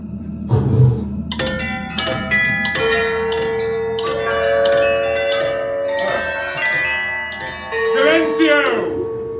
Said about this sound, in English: Do you see this bell over here in the corner? I'd like you to make it ring one time.